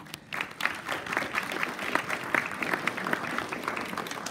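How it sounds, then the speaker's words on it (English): The audience at a spring school choir concert breaks into applause for the secretaries and PTO. The clapping is dense and sustained and builds slightly after a quieter start. "we want to give you a hand of applause too"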